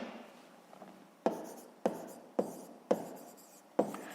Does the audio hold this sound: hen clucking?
no